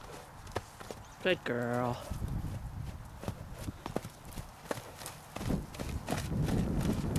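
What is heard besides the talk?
horse cantering, hooves clip-clopping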